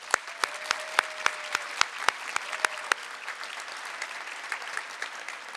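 A graduation audience applauds in a large hall, dense steady clapping from a crowd with sharp individual claps standing out near the front.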